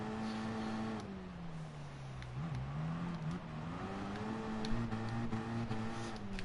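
A racing car's engine in a PS4 racing game revs steadily, the pitch dipping and climbing as it shifts gears, a continuous whining drone with no talking over it.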